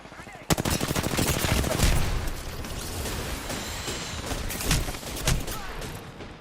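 Rapid bursts of automatic gunfire in a shooter video game, dense and loud across the whole stretch with sharp cracks standing out, mixed with game sound effects and some voice.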